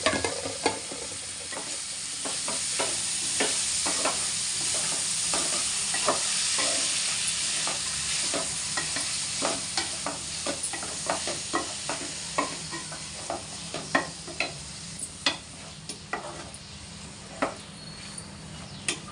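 Carrot and chana dal fry being stirred in a pan, a steady sizzle broken by repeated sharp scraping clicks of a spoon against the pan. The clicks grow sparser toward the end, with no talking.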